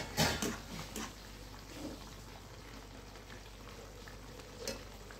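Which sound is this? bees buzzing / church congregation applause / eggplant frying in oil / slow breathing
eggplant frying in oil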